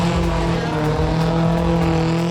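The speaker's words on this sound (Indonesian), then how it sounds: "Liatin banyak mobil langka pada atraksi ngepot-ngepot" Rare cars drifting in a Man on Fire stunt show at Museum Angkut: loud, steady engine roar with sustained droning tones and a faint hint of tire noise, continuous and close throughout.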